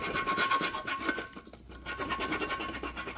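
A reamer scrapes and rasps inside the end of a 1/2 inch copper pipe, a close, steady rubbing rhythm with a brief pause midway.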